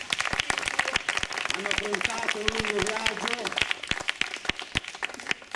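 Festival audience applause rings out as scattered, sharp, fairly close individual claps rather than a dense wash, under someone speaking Italian throughout.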